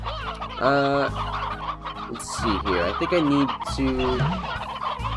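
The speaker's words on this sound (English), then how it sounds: "There's more chickens somewhere. I can hear them." Chickens in the video game Slime Rancher cluck and gobble in repeated close calls, loud and layered over game ambience, with a person briefly speaking.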